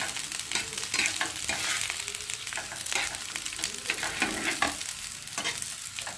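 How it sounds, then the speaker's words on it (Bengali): Potatoes frying in a pan, a continuous crackling sizzle with frequent stirring scrapes, close and alone with no voices. "আর এদিকে দেখো আলু ভাজা হচ্ছে"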